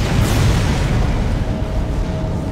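A loud, deep rumbling thermite bomb explosion in the video game Dead Space, with a heavy low-end roar that sustains and slowly decays.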